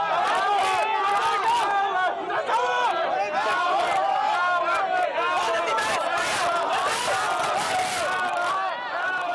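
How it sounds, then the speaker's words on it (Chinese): A crowd of people, students among them, clamouring in uproar at a tense campus confrontation in Hong Kong: dense overlapping shouts and chatter, loud and sustained throughout. "没想到群情起哄"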